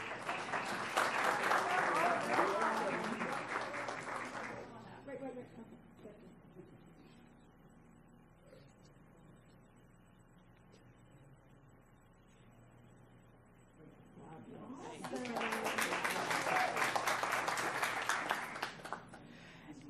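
An audience at a school board meeting breaks into a burst of clapping lasting about four seconds, falls quiet for roughly ten seconds, then gives a second, similar round of applause.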